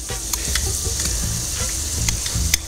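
Ground garlic frying in a sofrito in a pan, with a steady sizzle broken by repeated spoon stirring and scraping, close and moderately loud, no talking.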